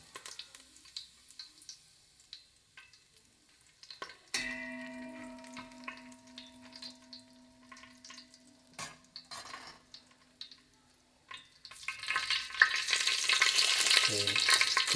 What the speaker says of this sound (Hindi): घी पिघल जाए तो जीरा डालते हैं सबसे पहले